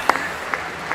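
Scattered audience clapping at an awards ceremony comes through faint and thin, with a few sharp, separate claps spaced apart over a quiet background.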